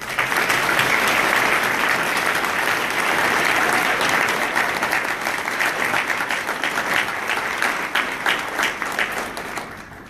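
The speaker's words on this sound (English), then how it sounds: "Please join me in one last round of applause for our finalists and award recipients" Sustained audience applause fills a women-in-business awards ceremony honoring finalists and recipients, dense and steady clapping throughout, easing slightly toward the end.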